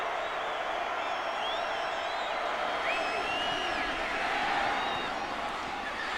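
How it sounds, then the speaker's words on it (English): A large football stadium crowd at a 2002 UTEP vs Oklahoma college game roars in a broad, steady wash of far-off cheering that swells slightly, with a commentator talking over it. "Crowd getting into it."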